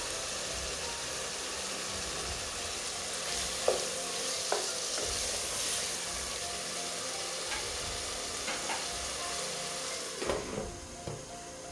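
Chicken karahi cooking in a pan with a low, continuous sizzle as chopped coriander goes in, with a few faint clinks and stirring scrapes scattered through.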